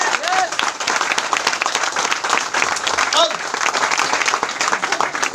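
An audience claps at a company business-plan presentation, a continuous loud round of applause with some voices mixed in.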